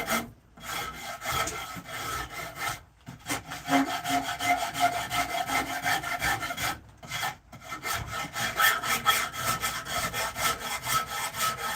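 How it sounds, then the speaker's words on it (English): A hand rasp shaping a carved wooden spoon, with steady back-and-forth rasping strokes in a fast, even rhythm, close and loud, broken by a couple of short pauses. "Now this guy's gonna need some rasping."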